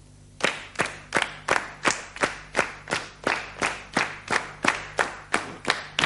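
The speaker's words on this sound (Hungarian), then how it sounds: "Tapsoljunk egyszerre, jó?" An audience claps in unison, steady evenly spaced eighth-note beats, about sixteen sharp crisp claps in a row, close and clear with no talking.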